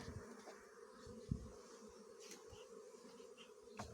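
Buckfast honeybees buzzing inside an open beehive, a steady close-up hum of a whole colony with a few louder individual bees passing near, no talk.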